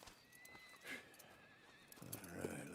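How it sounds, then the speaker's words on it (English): A horse whinnies in Red Dead Redemption 2, a high neigh near the start, then a second rougher whinny and snort near the end over quiet ambience and soft hoof movement. "And a fine new horse."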